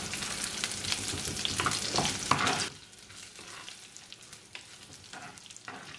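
Dried red chillies tossed into hot oil, with a loud, dense sizzle that drops abruptly to a quieter crackle partway through, and occasional soft stirring.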